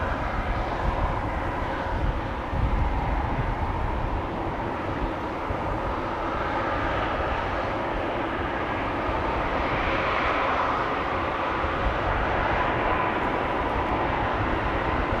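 A BBN Cargo plane passing at Amsterdam Schiphol Airport, engines producing a continuous heavy roar that stays loud and close for the whole stretch, with no voices.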